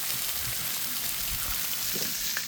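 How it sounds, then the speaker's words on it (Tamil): Fish pieces frying in cold-pressed oil at a dam-side fish stall give a low, steady sizzle with faint bubbling pops, moderately quiet and continuous, with no speech. "நம்ம வறுத்து எடுக்க போகிறோம்"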